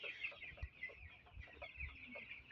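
A flock of 14-day-old broiler chickens on a farm clucks and chirps softly, with a steady stream of overlapping small calls heard at close range.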